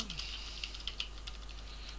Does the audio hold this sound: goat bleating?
no